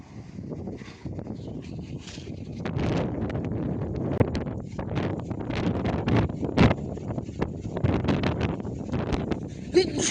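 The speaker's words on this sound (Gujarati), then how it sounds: "કેટલો પવન છે આમ જુઓ તો ખરી" Strong wind gusts outdoors, buffeting the microphone with a constant rough roar and sharper bursts that rise and fall throughout.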